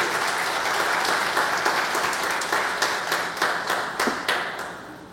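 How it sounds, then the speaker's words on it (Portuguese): A church congregation claps together in worship, a loud dense wash of hands that gradually settles into more distinct, rhythmic individual claps as it tapers off. "Podemos aplaudir o Senhor nesse momento?"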